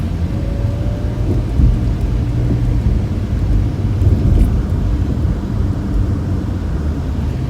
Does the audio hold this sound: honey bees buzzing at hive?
no